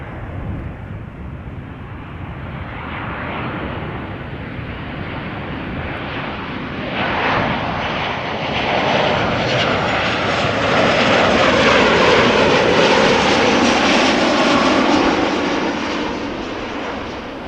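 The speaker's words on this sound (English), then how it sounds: "737-800 arriving from Bologna." Boeing 737-800 arriving at Amsterdam Schiphol from Bologna, a loud jet roar that swells steadily as the aircraft draws near, with a rising whine and a peak near the end before it eases slightly.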